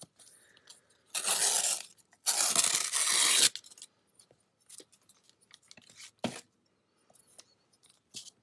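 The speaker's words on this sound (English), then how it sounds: "I'm going to just trim my paper a little so I don't have too much excess" Scissors trimming excess paper for a mixed-media image transfer: two sustained close cutting passes, one short and one longer, followed by scattered light snips and rustles.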